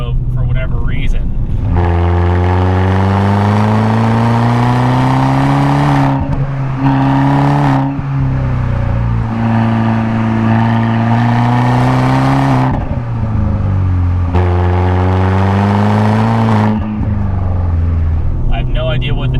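A Fiat 500 Abarth with a manual gearbox pulls hard through the gears, its engine note climbing in pitch in repeated surges with brief dips at each shift, loud and close with a droning rasp.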